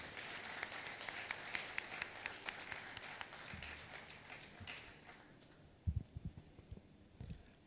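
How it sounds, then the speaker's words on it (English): Conference audience applause in a hall, distinct claps from many hands that gradually thin out and fade, leaving a few soft taps and knocks at the end. "Please give him a huge round of applause."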